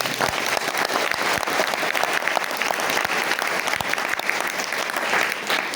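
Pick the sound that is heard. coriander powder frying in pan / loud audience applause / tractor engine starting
loud audience applause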